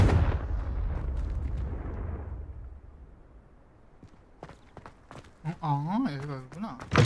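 A Confringo explosion spell cast in a Harry Potter video game gives a loud, rumbling blast that fades over about two seconds. A voice speaks near the end.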